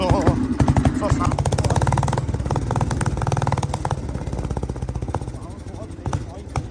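A Bullet motorcycle engine idles after a cold start in winter, its loud, rhythmic thump steady and close, with a slightly uneven, missing beat; someone talks over it partway through.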